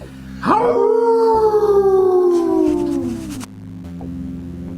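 A person imitates a wolf or werewolf with one long, loud howl that rises sharply and then slides slowly downward over about three seconds before cutting off, with a low hum underneath.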